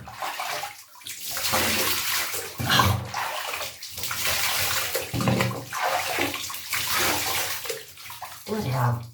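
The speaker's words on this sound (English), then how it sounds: "what you want to do is rinse all that" Water from a jug poured to rinse after shaving, splashing and sloshing in uneven bursts close by, with brief pauses between pours.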